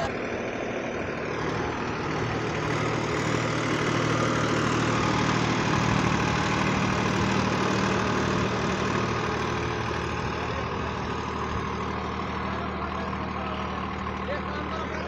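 A Sonalika DI 745 tractor drags a 13-tine cultivator under load in third gear at 1600 RPM, its engine a steady, loud, unbroken diesel drone for the whole stretch.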